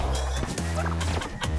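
A chicken clucks and squawks in the Wand Wars video game, a short burst of harmonic, gobbling calls that sounds loud and close in the game mix.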